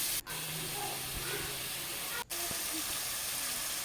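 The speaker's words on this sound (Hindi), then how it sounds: "उसके बाद हमने टमाटर डाल देने हैं, तो हमने लिए थे 3 अदद। टमाटर को हमने अच्छी तरह भूनना है।" Three tomatoes sizzling and hissing in a hot pan while being fried down for kaleji masala, a continuous loud broadband frying hiss with two brief dropouts.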